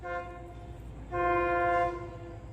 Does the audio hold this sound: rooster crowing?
no